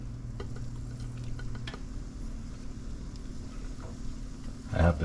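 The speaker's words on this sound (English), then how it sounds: "Get everything sauteed now" Vegetables hiss softly in a pan of melted butter and canola oil, a low steady sizzle with faint stirring clicks and a brief louder scrape near the end.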